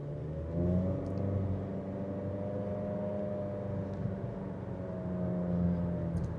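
Inside a 2026 Acura ADX with a CVT transmission, a steady low engine drone hums while cruising, rising slightly at moments, quiet and continuous with no talk.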